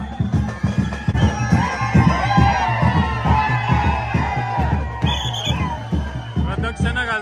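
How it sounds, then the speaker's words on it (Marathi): A crowd cheers and whoops with rhythmic drumming and music during a palkhi procession celebration in Navi Mumbai, with voices shouting throughout, loud and close. "आता जल्लोष बघा."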